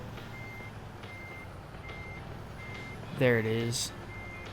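Truck reversing alarm in American Truck Simulator, steady evenly spaced beeps repeating over low engine rumble, with someone briefly speaking partway through.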